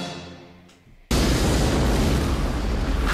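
A loud, sudden explosion from the 1998 action film Lethal Weapon 4 bursts in after a quieter stretch of film sound, then roars on as a dense, sustained blast with rumbling debris.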